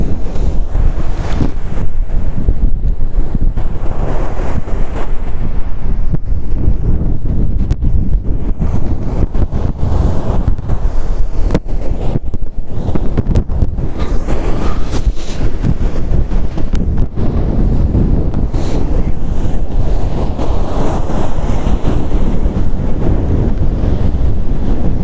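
Strong wind buffeting the microphone on the beach at Vignola a Mare, Sardinia, a loud, continuous roar with surf washing underneath for the whole stretch, and no voices.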